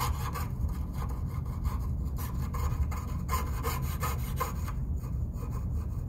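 A hand saw blade cuts a curve through copper sheet, making a continuous close rasping scrape with steady back-and-forth strokes and no talking.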